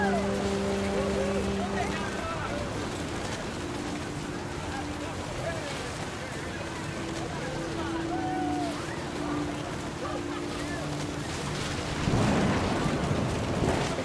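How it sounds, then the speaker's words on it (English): Steady heavy rain with a rolling rumble of thunder in the video game What Remains of Edith Finch, a dense continuous wash that swells louder near the end, with a voice talking over it. "The thunder sounded much too close and full of angry power."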